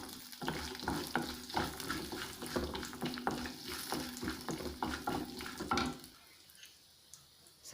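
Red chillies and asafoetida frying in oil, a soft crackling sizzle with scattered stirring scrapes and clicks that thins out toward the end, fairly quiet.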